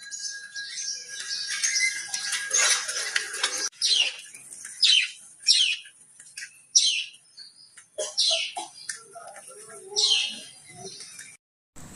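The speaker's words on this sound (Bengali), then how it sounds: "সকাল সকাল পাখির আওয়াজ শোনো" Morning birdsong beside a lake: a dense chorus of bright, high chirps and trills from several birds, some close and loud, others fainter, arriving in quick overlapping bursts with short gaps between phrases.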